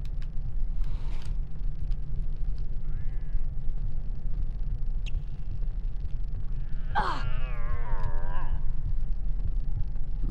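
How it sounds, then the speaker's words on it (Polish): A cat in the PlayStation game Harry Potter and the Philosopher's Stone gives one drawn-out, wavering meow late in the clip, rising over a steady low game rumble with faint scattered effects. "Ale na dole jest kot!"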